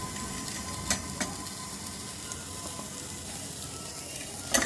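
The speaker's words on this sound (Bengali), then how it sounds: "আবার নাড়িয়ে দেবো" Khichuri stirred in a pan after adding turmeric, a steady close sizzle of frying with a few faint scraping stirs over it, no talk.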